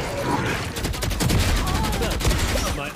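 Odin machine gun in Valorant firing long rapid bursts, loud and close, a dense rattling stream of shots with a brief gap, voices exclaiming underneath.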